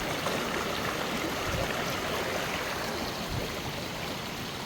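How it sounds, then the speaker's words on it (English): Steady broadband rush of a stream flowing down through a wooded creek along a hiking trail in Rabun County, Georgia, continuous and fairly loud with no voices. "stream rolling down through this creek."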